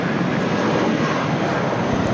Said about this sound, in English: the second China Airlines cargo 777 freighter about to touch down on 25 left